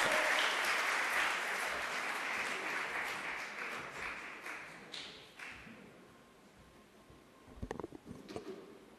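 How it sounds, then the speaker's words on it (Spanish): An audience at an immunology symposium in Chile applauds a visiting professor, with dense clapping that gradually fades and leaves a few scattered thumps and taps near the end. "Le damos un cordial aplauso al profesor."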